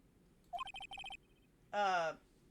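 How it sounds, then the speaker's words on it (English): A redialed phone in the Phoenix Wright: Ace Attorney video game gives a quick run of short electronic dialing beeps, a brief pause, then a single buzzing ring tone, clear against quiet background noise. "You pressed redial on that there phone, didn't you?"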